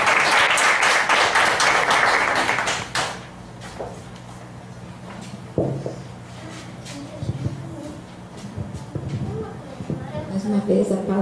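A church congregation claps loudly for about three seconds, then the applause fades out, followed by a quieter room with scattered movement and voices.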